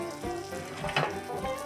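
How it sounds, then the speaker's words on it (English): Butter sizzles and spits in a pan on a low flame as it is spooned over crispy-skinned salmon. The frying is soft and brief, with a slightly louder splash of basting near the middle. "just keep letting this butter baste over the top of the salmon"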